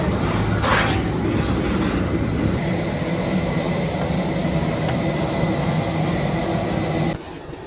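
A passenger jet taxis on the ground ahead of a Melbourne to Sydney flight, its engines giving a loud, steady rumble with a faint whine that holds unbroken for about seven seconds before dropping off abruptly.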